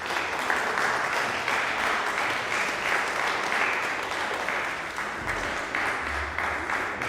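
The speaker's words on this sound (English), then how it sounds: "I just want to ask for another round of applause for Benji" An audience applauds at a freedom festival in Bath, a dense and steady round of clapping that carries on throughout without pause.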